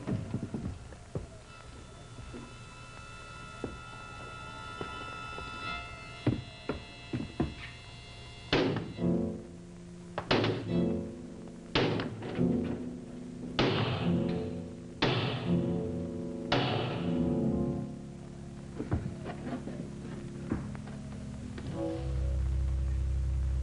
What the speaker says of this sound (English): Well, hammer on the lock.